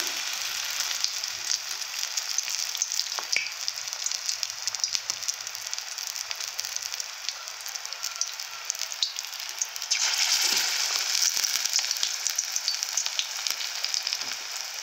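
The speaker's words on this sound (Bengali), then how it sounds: "হালকা আঁচে আপনারা ভাজবেন। এইভাবে ছেড়ে দিবে।" Flower pakora fries on low heat with a steady, fine crackling sizzle in hot oil, continuous throughout and swelling briefly louder near the end.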